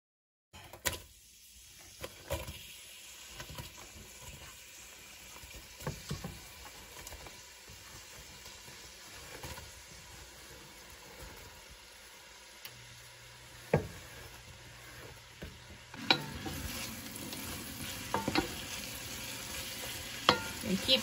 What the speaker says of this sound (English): I'm going to caramelize those onions in about 4 tablespoons of butter